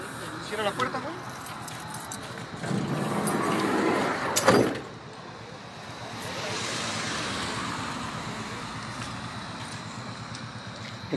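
A car door slams shut beside a taxi-and-private-car collision scene in San José del Valle, a single sharp thud near mid-clip amid roadside noise and people talking.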